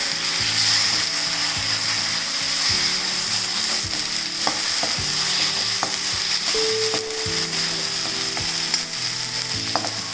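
Tomato and gram flour frying in a pan for a UP-style sabzi, giving a steady sizzle with occasional clicks and scrapes of stirring, close and alone throughout.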